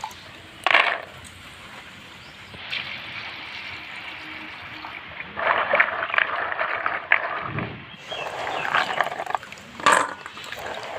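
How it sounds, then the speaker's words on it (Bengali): Water splashes and trickles in uneven bursts as a stove is washed clean, with scrubbing and handling noises between the pours. "চুলাটা আমি ভালো করে পরিষ্কার করে ধুয়ে নিব"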